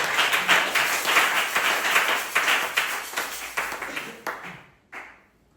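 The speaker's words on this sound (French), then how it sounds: "Applaudissez pour le Seigneur." Church congregation clapping together during a worship service, a steady run of rhythmic claps that thins out and stops after about four and a half seconds, with a few final claps.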